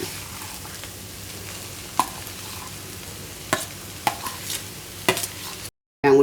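Mashed potato podimas being stirred and mixed in a pan, a soft continuous scraping with a few sharper spoon knocks against the metal, close and steady, ending in a brief silence before a final burst.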